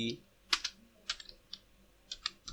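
Sparse keystrokes on a computer keyboard while code is entered, a handful of sharp clicks spaced irregularly in small bursts, close and fairly quiet, with a faint voice at the very start.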